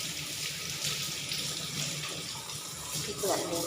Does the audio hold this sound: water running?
yes